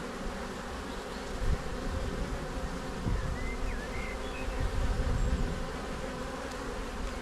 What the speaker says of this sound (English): there are way too many bees in here